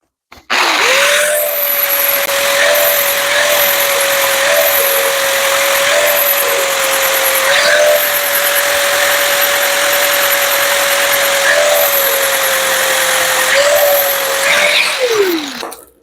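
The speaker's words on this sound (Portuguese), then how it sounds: "você começa aqui, ó, desgastando a crista do cordão de solda" An angle grinder grinds the weld bead down on metal tubing, a loud close steady whine that spins up, holds with slight dips as it bites the metal, then winds down at the end.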